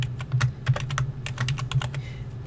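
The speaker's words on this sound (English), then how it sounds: "I'm going to type HLModTech." Rapid typing of a short phrase into a text box on a computer keyboard, with clustered irregular keystrokes, close and clear over a steady low background hum.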